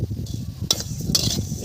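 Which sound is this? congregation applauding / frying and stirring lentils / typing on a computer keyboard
frying and stirring lentils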